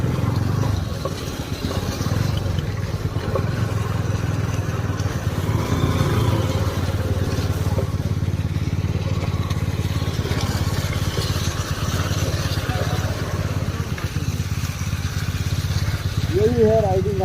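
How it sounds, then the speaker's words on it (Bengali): A motorcycle rumbles along a muddy, unpaved mountain road in East Sikkim near Gangtok, with a steady, close engine drone and occasional clatter, and a voice speaks near the end. "জায়গাটা পুরোই রাস্তা নেই, আর এই জায়গাটা পুরোটা মাটি, চাকা মাঝে মাঝে স্কিড করছে।"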